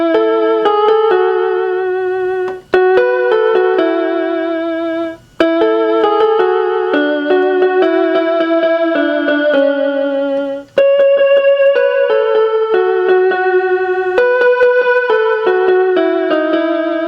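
Piano playing a melody as a bouncy run of single notes and short repeated figures with brief pauses between phrases, clear and close with no voices.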